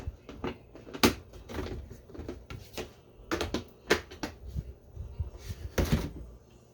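A homemade DIY Catchbox has its door fitted, giving a series of sharp wooden knocks, taps and clicks at an irregular pace, close and fairly loud, with no talking.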